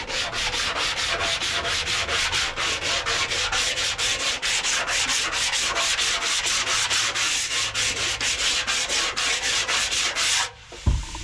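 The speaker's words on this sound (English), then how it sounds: "And I just use a bit of emery paper, or I don't know what it is." Hand sanding metal body panels on a Volkswagen Beetle restoration with coarse 80 grit emery paper in a cross-hatch motion: steady, loud rhythmic rasping strokes close up, nearly continuous for about ten seconds, then a brief stop with a thump.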